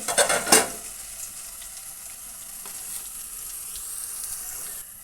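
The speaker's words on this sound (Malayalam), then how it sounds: "അത് നമ്മൾ നല്ലതുപോലെ എണ്ണയിൽ കടന്നൊന്ന് മൂക്കാനുണ്ട്" Crushed ginger, green chilli and garlic fry in hot oil for mango pickle, opening with a few loud clattering stirs before settling into a steady, close sizzle.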